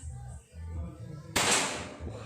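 A Marauder Titan OD 38 air rifle fires a single sharp shot partway through, a sudden crack that rings out and fades, with quiet talk and low background noise before it.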